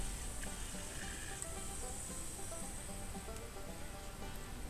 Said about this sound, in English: You can see the bubbles rushing up in there.